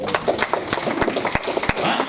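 Audience applause at a panel discussion: a ragged round of scattered hand claps of moderate loudness, mixed with crowd murmur and some talking.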